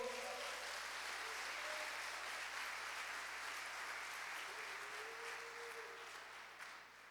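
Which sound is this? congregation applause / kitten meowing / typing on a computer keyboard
congregation applause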